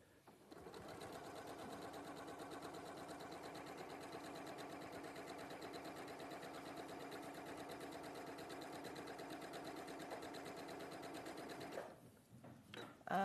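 A sewing machine stitching a quilt in one long, steady run of fast, even whirring that stops abruptly near the end.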